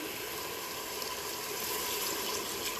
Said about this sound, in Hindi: आप इसमें हस्बे ज़रूरत पानी शामिल करूंगी